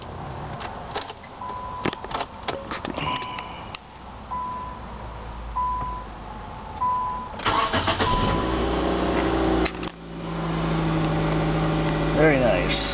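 A 2006 Nissan Sentra at a dealership cranks and catches about halfway through, then settles into a steady idle close by, with scattered background clatter before the start.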